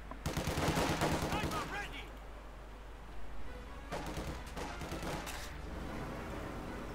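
Light machine gun fire from German Grenadiers in a farm building during a Company of Heroes 2 match, with dense rapid bursts near the start and more bursts around four seconds, over steady battlefield noise.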